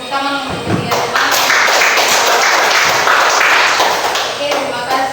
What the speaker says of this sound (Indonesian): Kita berikan tepuk tangan untuk ketiga teman.